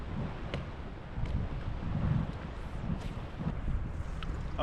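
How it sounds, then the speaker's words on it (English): Wind gusting across open water during a bass-fishing outing from a boat, a steady, fairly loud rushing roar with faint knocks and rustles and no talk. "We have a good chance of catching one when the wind is out blowing like this."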